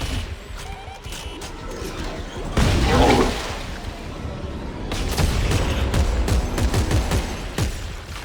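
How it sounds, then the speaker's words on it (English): Shotgun blasts and other gunfire in the co-op sci-fi horror game Dead Space 3, loud repeated bursts with crashing impacts, mixed with further shooting and game noise. "My shotgun can't stop them."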